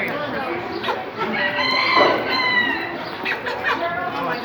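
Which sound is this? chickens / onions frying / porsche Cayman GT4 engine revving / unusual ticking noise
chickens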